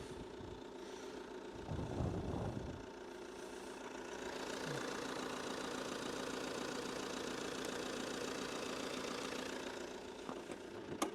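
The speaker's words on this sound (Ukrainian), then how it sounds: "Як працює точніше двигун в підкапотному просторі." A 2013 Fiat Freemont 2.0 diesel engine idles steadily with a low, even hum and a faint knocking vibration; a brief clunk is heard near the start.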